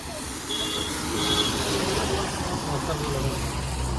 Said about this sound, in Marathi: गाड्या येतात बघा